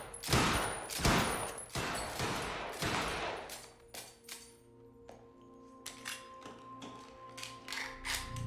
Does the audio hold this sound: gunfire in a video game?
yes